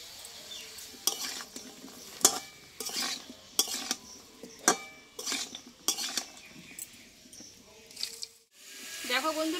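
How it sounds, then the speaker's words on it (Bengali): Soaked chickpeas being stirred in a pan with cooked-down tomato, repeated scraping and clattering strokes of a metal spatula against the pan in an uneven rhythm, close and fairly loud, with someone talking briefly. "এবার এই ছোলাটা দিয়ে আমি কিছুক্ষণ নাড়াচাড়া করে নেবো"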